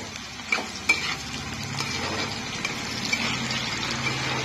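Onions, ginger, green chilli, curry leaves and raw peanuts stirred in hot oil in a pan, a steady close sizzle with scraping stirs and a couple of sharp clacks early on.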